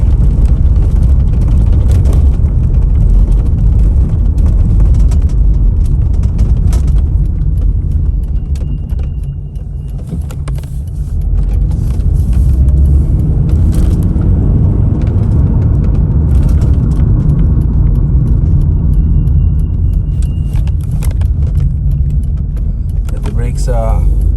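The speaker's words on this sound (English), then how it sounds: "Let's go for a drive again, see if there's any lights coming on." A car with a rear left wheel speed sensor fault and brake pedal and ABS/ESP warnings drives on the road, producing a steady, loud low rumble of road and engine noise that runs throughout, with a slight dip midway.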